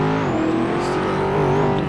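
A Ferrari in GTA RP roars at close range, its engine and exhaust holding a steady, loud, buzzing drone with slight pitch wavering throughout.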